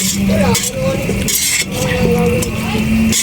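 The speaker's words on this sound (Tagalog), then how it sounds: "Haluin natin hanggang sa lumambot siya guys" A utensil stirs ingredients in a cooking pot with repeated close scraping and clinking against the metal, while a voice talks over it.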